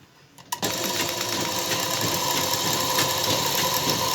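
A sewing machine stitches along the edge of a blouse, starting after a short pause with a continuous close, loud, even mechanical whir and rapid needle chatter that holds steady to the end.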